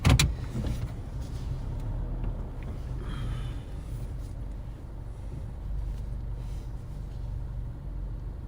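A car engine runs steadily at night in rural Nebraska as the car is slowly moved into a new position, giving a close, even rumble with no talking.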